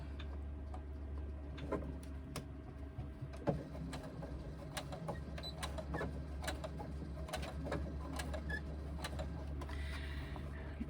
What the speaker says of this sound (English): we start stitching where we finished stitching before